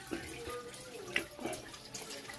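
Water spraying from a shower fed by a booster pump, a steady close hiss of running water with small splashes and drips, fairly quiet and without talking.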